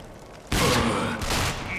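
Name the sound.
gunshots in the video game RAGE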